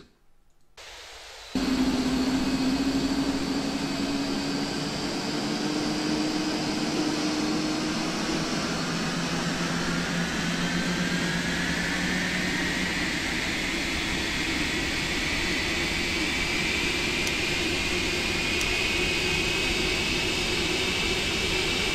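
PMDG 747 jet engines spooling up in the Prepar3D flight simulator, a whooshing roar that starts abruptly and holds steady while rising whine tones slowly climb in pitch.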